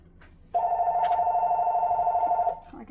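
A telephone rings in a kitchen during meat grinding with a metal food grinder attachment, giving one steady two-second electronic ring tone, close and clear, with no talk over it.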